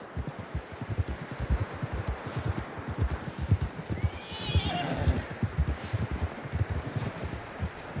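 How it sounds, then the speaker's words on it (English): A horse in the video game Red Dead Redemption 2 gives a loud whinny midway while its hooves clop in a steady, rhythmic gait over outdoor ground, with a faint rustle in the background. "John was riding that horse when we left Blackwater"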